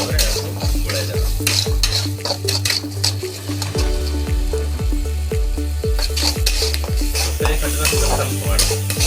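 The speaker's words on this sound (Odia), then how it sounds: "ପୁଣି ଥରେ ଭଲ ଭାବରେ ଗୋଳାଇ ଦେବା" Poha upma with turmeric and salt is stirred in a pan, with loud, rhythmic scrapes of the utensil against the metal over a faint sizzle and background music.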